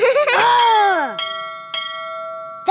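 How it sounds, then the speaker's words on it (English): A ship's dock bell rings three clear strikes, each leaving a long bright ring that fades slowly; the first strike follows a burst of cartoon giggling and a voice. "That's three bells."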